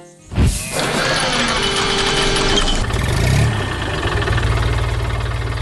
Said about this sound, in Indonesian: Traktor merah sedang membawa jerami ke tempat yang sudah disiapkan. Suara mesinnya menggelegar